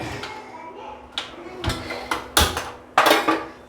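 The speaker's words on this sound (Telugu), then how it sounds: "గ్యాస్ వెలిగించుకొని చట్టి పెట్టుకోవాలి" A cooking pan set down on a lit gas stove, with several sharp metallic clanks and knocks close by, spaced irregularly over a quiet background.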